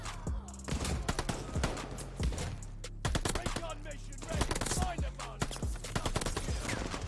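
Rapid MP40 submachine gun fire in Call of Duty: Vanguard, loud and dense with repeated bursts and overlapping battle noise throughout, with a voice faintly underneath.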